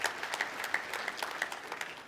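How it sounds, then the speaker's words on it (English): Attendees at a talk on smarter cars give a round of applause, a faint, scattered patter of clapping from a modest audience in a hall. "please give a round of applause to yourself"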